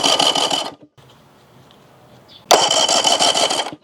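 Outboard motor turning over on the starter for a cold compression test, two loud bursts of rhythmic, rapid cranking chug separated by a quiet gap of about two seconds, close and clear.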